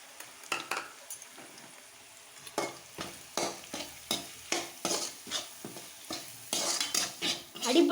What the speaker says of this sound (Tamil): அடி பிடிக்காம கிளறி விட்டுக்கிட்டே இருங்க.